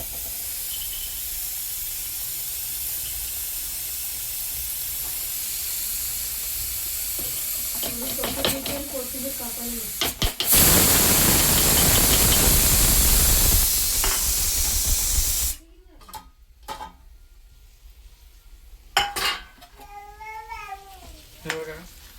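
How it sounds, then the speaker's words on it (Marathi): Paneer hits a hot kadhai while paneer bhurji is being cooked, setting off a loud, steady sizzle that lasts about five seconds, then stops abruptly amid fainter kitchen sounds. "आता पनीर आपण टाकूयात कढईमध्ये."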